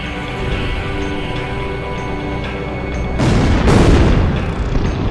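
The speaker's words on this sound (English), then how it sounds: "I have to stop these bombings" Bombing explosions in the Ace Combat Zero flight game, set over a burning city during an air raid: a steady roaring rumble that swells into a louder, heavy booming blast partway through.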